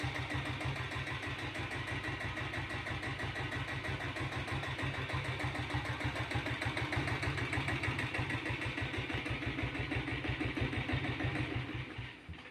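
A Royal Enfield diesel Bullet motorcycle idles steadily at close range, its single-cylinder beat a regular, even thump that holds for the whole stretch before easing off at the very end, with no voices.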